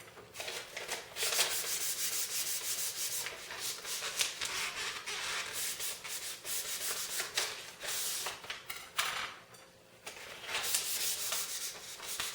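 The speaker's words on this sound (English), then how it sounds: "It's going to sand off any minor burrs." Sandpaper rubbing along a knitting needle to smooth off burrs and splits, a steady close scratchy rasping in long back-and-forth strokes that continue without pause and without talk.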